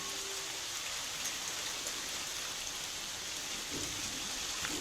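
Steady rain pours down with a constant hiss of drops hitting surfaces, unbroken throughout and with no voices.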